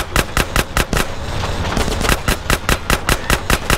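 Rapid bursts of automatic gunfire from a GTA San Andreas shootout, sharp evenly spaced shots in a steady rhythm that break into a brief roar of continuous fire before the repeated shots resume.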